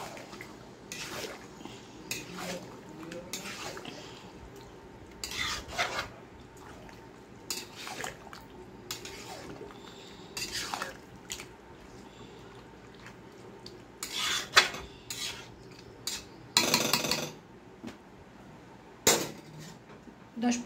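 A spoon stirs sour yogurt into chicken curry in a pot, giving faint intermittent scrapes, clinks and wet squelches at close range with no talking.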